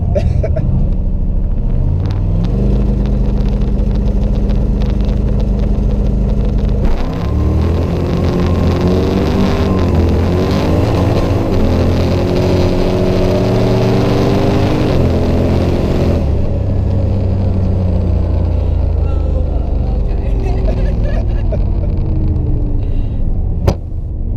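A 600+ hp turbo Camaro held on the trans brake and launched: a loud, close engine roar that builds and surges through rising revs, then eases back to a rumbling idle, with voices inside the car.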